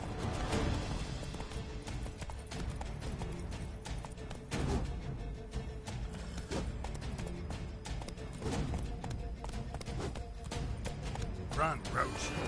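Roach, Geralt's horse in The Witcher 3, gallops with rapid rhythmic clip-clop hoofbeats throughout, loud and close, joined by game music and sound effects.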